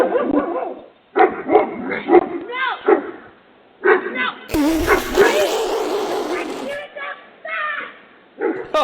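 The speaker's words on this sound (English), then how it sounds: "Dogs drag woman through yard." Several dogs in a yard, caught on a doorbell camera as they drag a woman along, bark and yip in repeated short bursts, loud and close, with a brief noisier scuffle in the middle.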